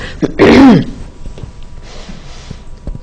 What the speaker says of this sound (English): I am destined to cough.